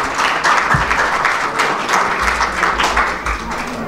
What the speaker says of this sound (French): de grâce on applaudit encore très fort